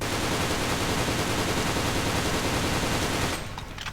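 A JK Happy Snow toy gun firing in a continuous rapid burst, a dense buzzing rattle lasting over three seconds before stopping abruptly.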